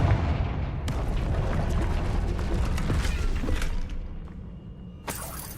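A fiery blasting spell bursts in Hogwarts Legacy with a sharp cracking impact, followed by crumbling debris and a second hard crack near the end, loud and close over game ambience.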